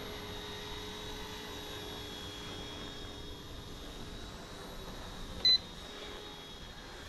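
A small ready-to-fly remote control helicopter hovering nearby, its steady high-pitched rotor and motor whine continuing evenly throughout, with one short electronic beep about two-thirds of the way in.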